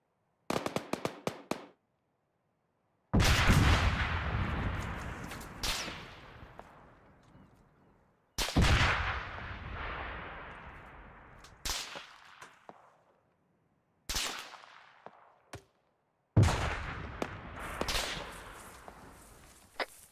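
Machine gun fire in Arma 3 comes in sharp bursts of rapid shots, each followed by long echoing decay and broken by short pauses, with several separate volleys.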